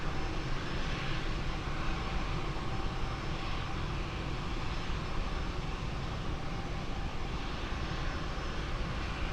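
Airplane landing on runway 20 at Lisbon Airport, its engines a steady, loud broadband roar with no voices over it.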